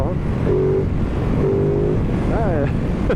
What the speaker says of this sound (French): Ah, ce petit moteur bicylindre. Ah, je le kiffe ce petit moteur.